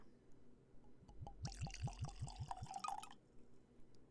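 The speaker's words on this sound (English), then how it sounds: "I'm going to pour some of this Weller 12 as well" Weller 12 Year wheated bourbon glugs from a screw-top bottle into a glass, a quick series of rhythmic gurgling pulses followed by a brief higher trickle, close and fairly quiet.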